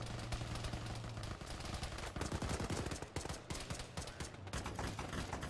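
Rapid bursts of automatic rifle fire rake a building in an Arma-style military video game, loud and close, with sustained volleys and short pauses.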